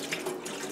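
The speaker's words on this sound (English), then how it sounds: "the water is going to make its way through" Tap water running through an N95 respirator mask while it is cleaned, a loud, steady rushing hiss from close by with no voices.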